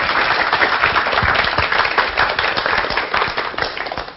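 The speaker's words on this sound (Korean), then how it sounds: "강연을 박수로 청해 듣겠습니다" An audience at a televised science lecture on adult stem cells applauds, a dense, loud wash of many hands clapping that holds steady for several seconds before tapering slightly at the end.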